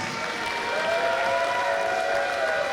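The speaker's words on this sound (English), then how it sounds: "give yourselves a big round of applause" A live wrestling event crowd claps at the end of the show, a dense, even round of applause filling the arena, with a faint tonal hum running underneath.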